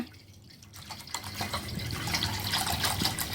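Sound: pouring drinking water into a container for watermelon wine

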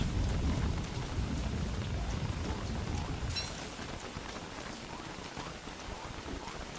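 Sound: rain in Don't Starve video game

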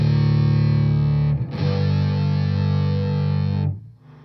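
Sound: guitar through EHX POG 2 octave pedal, upper octaves removed

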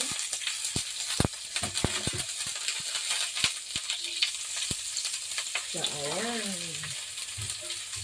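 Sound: red onion frying in a pan

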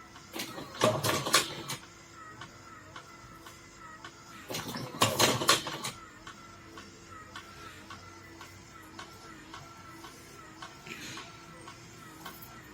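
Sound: cigarette rolling machine rolling a cigarette

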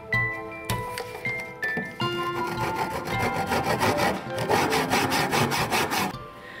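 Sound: cutting a V notch in wood

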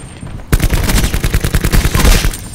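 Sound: sniper rifle shot in a video game

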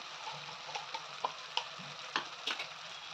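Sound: sautéing ground peanut, coconut, sesame masala in pan

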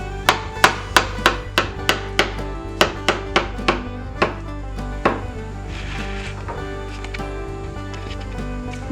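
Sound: thinly slicing food for marshmallow pizza

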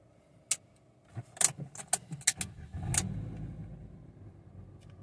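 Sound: Fiat Grand Siena car key being handled

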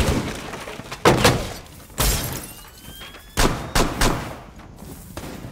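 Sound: gunfire in the video game Rainbow Six Siege

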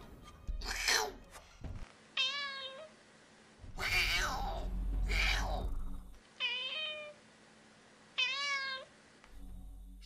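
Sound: voice imitating a cat meowing

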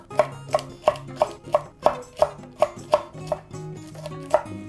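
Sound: finely chopping Cheongyang chili peppers with a knife

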